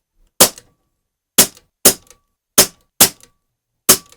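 Six sharp, loud cracks from a Snowpeak PP750 PCP 4.5mm air rifle fire at irregular intervals, each a crisp snap with a short ring-off and near silence between shots.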